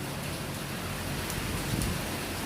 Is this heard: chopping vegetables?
no